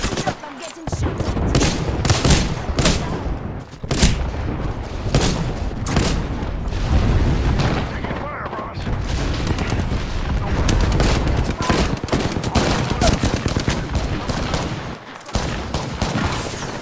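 Apex Legends gunfire in the middle of a heated fight: dense, loud automatic bursts and booming shots that fill almost the whole stretch, with a few brief pauses and voices underneath.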